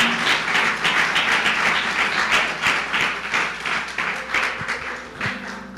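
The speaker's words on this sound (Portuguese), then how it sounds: "Uma salva de palmas ao Senhor." A church congregation applauds during a Sunday service, with a moderately loud wash of many hands clapping that slowly thins out, while a few sharper individual claps stand out toward the end.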